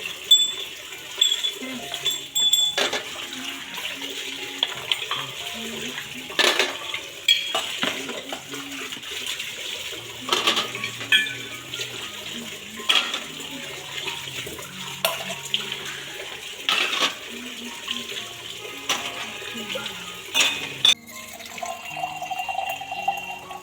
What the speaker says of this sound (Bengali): এক একটা ধুচ্ছি, এক একটা রাখছি।